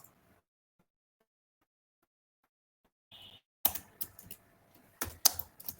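Keystrokes on a computer keyboard start after about three seconds of near silence, a brief tone first, then a loose run of close, moderately loud clicks and taps.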